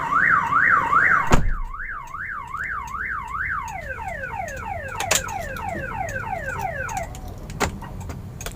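A Toyota Rush car alarm blares nearby, a rapid rising-and-falling electronic warble that shifts into a series of faster descending chirps before cutting off, with a door-like thump near the start.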